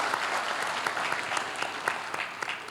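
Dense, steady applause from a studio audience fills the whole stretch, close and loud with no talk over it.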